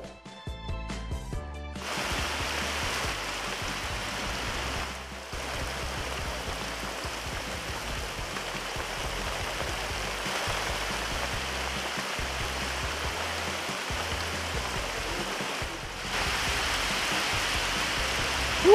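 Rain falls in the countryside in a steady, even hiss that lasts throughout. A sharper burst opens the stretch and the rain swells slightly near the end, with no talking over it.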